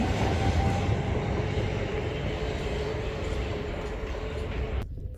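A passenger train on the Isle of Sheppey line rumbles steadily along with a low continuous roar and a faint sustained tone, no voices, ending with a sudden cutoff.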